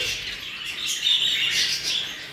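Budgerigars in a breeding house in Pendik, a chorus of bright, rapid chirps and warbles heard fairly close, with no talking.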